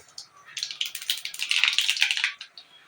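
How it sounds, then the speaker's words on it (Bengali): Black cumin seeds hit hot oil and crackle in a quick burst of sharp, close sizzling pops that swell and then fade, with faint speech beneath. "তাই তেলের ভিতর দিয়ে দেবো আমি কালো জিরে"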